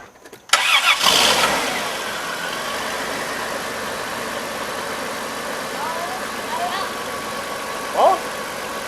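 A 1998 Dodge Caravan engine cranks briefly and catches after a spark plug and plug wire replacement, then settles into a steady idle heard up close.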